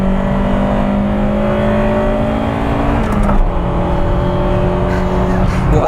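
Acura Integra Type R accelerating hard, a loud, steady engine drone with harmonic tones climbing and dropping at a gear change near the middle, recorded from inside the car throughout.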